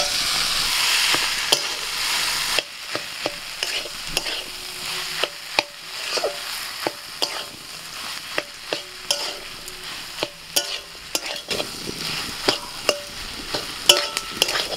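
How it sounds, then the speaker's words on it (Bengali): Potato and vegetable filling for an egg paratha is stirred in a hot pan, with a steady sizzle and repeated scraping knocks of the spatula at an irregular rhythm, close and clear with no talking. "নাড়াচাড়া করে করে পুরটাকে তৈরি করে নিয়ে এসে"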